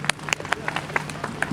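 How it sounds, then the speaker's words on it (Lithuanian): Small audience clapping for a theatre actor at a library event, a few scattered, fairly sparse claps at close range in an uneven rhythm, with a low hum beneath. "Aplodismentai Giedriui."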